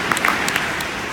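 Short burst of applause from a school audience at Viewpoint School for a talk by Ken Jeong: scattered, moderately loud clapping with a few sharper individual claps standing out, no speech over it.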